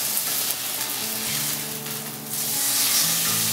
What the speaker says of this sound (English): Put a little oil in my pan. I've already got my pan heated up. We are going to sear it. I just love that sound.